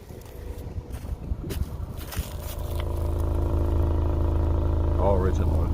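A 1998 Honda Prelude's H22A4 engine, with original exhaust and a new head gasket, idles with a steady low rumble that grows louder and more even, while a person speaks briefly over it.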